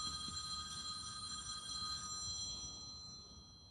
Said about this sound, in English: Who the hell's phone is ringing?